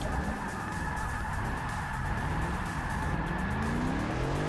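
A stock Dodge Challenger Hellcat drifting in Forza Motorsport 6 gives a steady engine drone with wavering, rising pitch and a faint hiss of tyre scrub, continuous and fairly quiet, with no voices.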